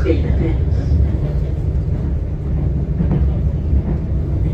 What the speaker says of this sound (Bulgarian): Точно сега реши да мине другия влак.